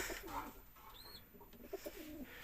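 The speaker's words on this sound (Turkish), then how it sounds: "Kuşların yanındayız yine benim o asıl kümeste." Pigeons coo softly in a coop, low rounded calls repeating at moderate distance, with a faint chirp and light background noise.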